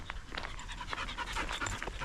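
A herding dog trained in French ring panting close and steady, a quick continuous breathy rhythm with no talk over it.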